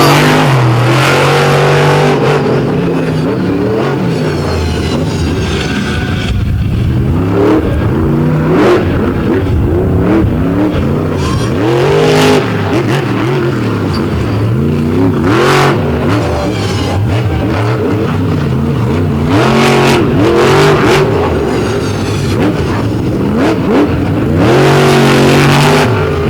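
A monster truck engine revs hard at a night monster truck battle at Lake Erie, loud and roaring with repeated surging bursts and bangs over a continuous throaty rumble.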